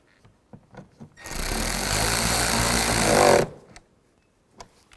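A power tool snugs down the screws on a window regulator of a 2005-15 Nissan Xterra: a single loud, steady whir of about two seconds, set between soft clicks and handling noises.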